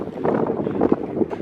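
Steady, loud wind on a high sand dune at Erg Chebbi in the Moroccan Sahara, buffeting the microphone in continuous gusts, a broad roaring rush with no voices.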